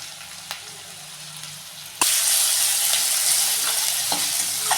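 Chopped garlic, green chilli and ginger fry lightly in a pan with a steady sizzle that jumps louder partway through as stirring continues, with occasional scraping clicks.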